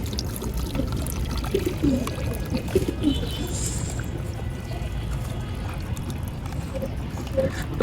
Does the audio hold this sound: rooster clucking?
no